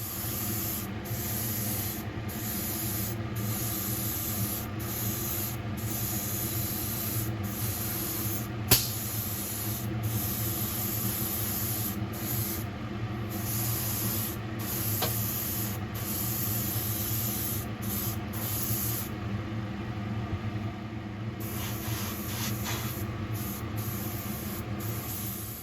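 An airbrush sprays paint onto a 1/43 white metal Lotus 99T F1 kit, giving a steady close hiss that runs for about twenty-five seconds with frequent brief interruptions.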